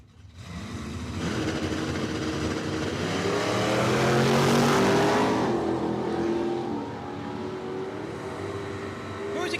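Camaro drag cars, second and third generation, launch and roar down a quarter-mile strip at Cordova Dragway, engines rising in pitch as they accelerate, loud and sustained, with an announcer's voice faintly mixed in.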